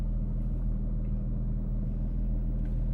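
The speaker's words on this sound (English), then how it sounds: "This engine is so loud." Engine of a Porsche 911 GT3 (991 generation) heard from inside the cabin while driving, a loud, constant deep rumble and drone that stays even throughout, with no talking.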